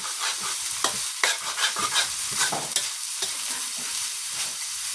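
Pork fried rice stir-fried in a pan, with a steady sizzle and the repeated scrape and clatter of a utensil stirring the rice against the metal, close up and continuous for the whole stretch, with no talk.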